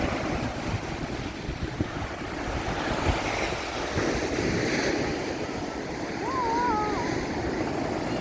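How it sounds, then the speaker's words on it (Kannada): Ocean surf rolls in at Somanatha beach in Mangaluru, a steady broadband wash of breaking waves with wind rumble on the microphone and a faint bird-like chirp near the end. "ಬೀಚಿಗೆ ಬಂದಿದ್ದೀವಿ."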